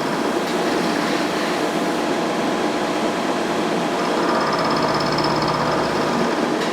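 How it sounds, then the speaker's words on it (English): A heater kicking on in a machine shop, producing a steady, broad whooshing blower noise with a faint hum that shifts slightly partway through, continuous and fairly loud with no talk. "Sorry for the noise, heater kicked in."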